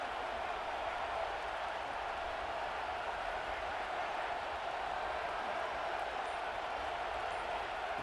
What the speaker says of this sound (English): wow, listen to this crowd noise. This stadium is vibrating.